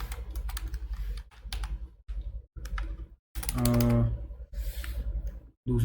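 Computer keyboard typing code, bursts of rapid clicking keystrokes close up, broken by short pauses and one heavier clatter of keys.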